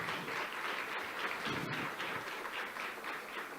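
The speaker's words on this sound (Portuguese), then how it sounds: "eu queria pedir nesse início uma salva de palmas pela luta de vocês em serem empreendedores e líderes de associação" A crowd at a gathering of entrepreneurs and association leaders claps together in a fairly quiet, steady patter of applause, heard at some distance with no voices over it.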